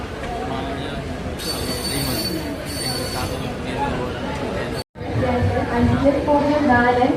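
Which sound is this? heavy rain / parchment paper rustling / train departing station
train departing station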